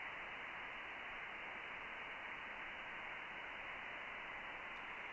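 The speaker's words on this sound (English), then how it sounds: "You hear the white noise." A band-limited hiss of white noise comes from an amateur radio receiver tuned during an ISS pass, faint and steady, a flat static wash with no voices.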